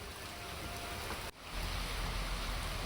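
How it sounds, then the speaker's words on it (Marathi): Heavy unseasonal rain pours steadily over Karjat town in Ahmednagar district, a dense, even hiss that briefly dips and then returns slightly louder. "कर्जतमध्ये सलग दुसऱ्या दिवशी जोरदार पाऊस आलेला आहे"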